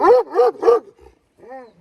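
A Karabaş dog barks three times in quick succession, close and loud, then gives a softer, drawn-out whine after a short pause.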